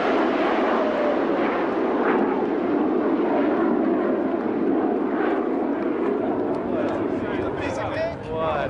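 Boeing 777 jet airliner in flight test, a steady broadband roar of jet engines running throughout, with people talking excitedly over it.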